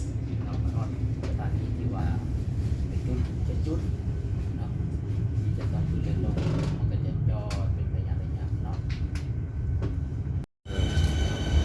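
A train at Footscray station in Melbourne gives a steady, loud rumble throughout, with faint voices beneath it and a brief dropout near the end.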